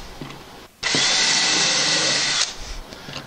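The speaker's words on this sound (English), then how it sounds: "drill all the way down until it stops" A loud power drill whines steadily for about one and a half seconds as it bores into melamine board, starting abruptly and cutting off sharply.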